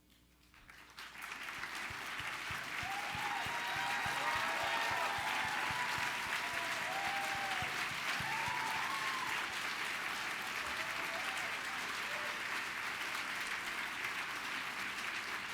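Sustained applause from a seated audience at a book critics' awards ceremony, rising quickly from near silence into a steady, even wash of clapping that continues to the end, heard at a moderate distance.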